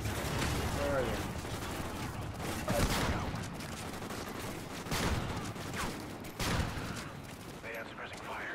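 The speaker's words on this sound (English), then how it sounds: "They have suppressing fire." Sustained suppressing gunfire in Call of Duty: Ghosts, a battlefield of bursts and scattered shots at moderate loudness, with distinct louder volleys near 3, 5 and 6.5 seconds and voices mixed in the din.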